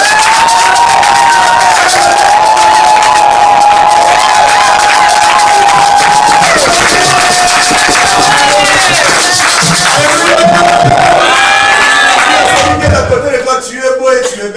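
Church congregation at a French-language service cheering, shouting and applauding in a loud sustained roar, with a high voice ululating above the crowd throughout before the acclaim thins out at the end.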